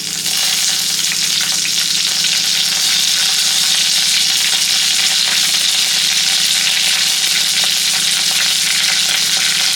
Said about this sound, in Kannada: ಲೋ ಫ್ಲೇಮಲ್ಲೇ ಇದನ್ನು ಹುರ್ಕೊಳ್ಳೋಣ